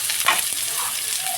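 Vegetables tipped into a hot pan with bay leaf and whole garam masala for mixed fried rice, giving a soft, continuous sizzle with a brief clatter and stir near the start.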